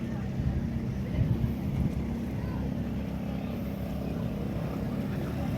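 A motorboat's steady low engine drone carries across a backwater in Kuttanad, holding even throughout with a bit of wind rumble and no talking.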